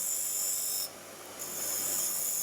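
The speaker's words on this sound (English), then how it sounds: "I'm going to use a parting tool." Parting tool cutting into wood on a lathe while turning a water flask tenon, a continuous hissing, rasping scrape that briefly eases off and then resumes, close and steady with no talking.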